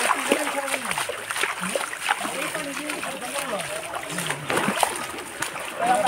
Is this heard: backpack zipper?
no